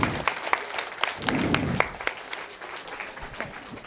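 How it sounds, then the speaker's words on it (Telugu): An audience claps to welcome someone speaker onto the stage at a talk on karma, with sharp individual claps early on that blend into warm, moderately loud applause and then taper off. "గట్టిగా చప్పట్లు"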